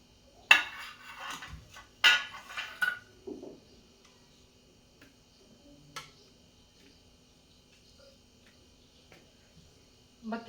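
Metal plates clatter as they are set aside while cooking dal bhatti, a few sharp clanks bunched near the start, then scattered light taps over a quiet room, close by.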